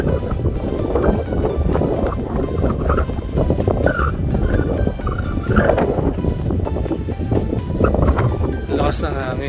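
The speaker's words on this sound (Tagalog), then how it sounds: "kita nyo guys kung gaano kalakas yung hangin" Strong wind roars and buffets steadily across an open housing construction site at Caliya Candelaria Phase 2, a loud, continuous rumble with gusty surges throughout, with a voice talking over it.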